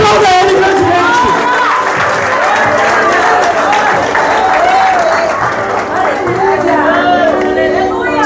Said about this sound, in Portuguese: aplauda Ele grandemente